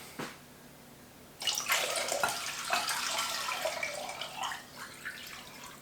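Water pours steadily into a pot for a batch of homemade ginger beer, a continuous splashing rush of several seconds that starts abruptly after a quiet lead-in and tapers slightly near the end.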